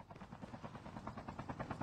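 A helicopter in Call of Duty Mobile gives a fast, steady rotor chop with rhythmic pulsing thuds, faint and continuous with no talking.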